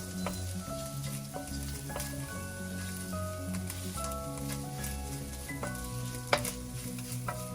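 Chicken and vegetable chow mein sizzles and fries steadily in a hot pan, a dense continuous crackle with occasional scrapes from stirring and one sharper clack near the end, no voices.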